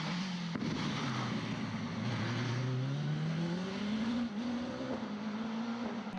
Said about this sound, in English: Alan MacDonald was fourth in the 1300cc Force SR4.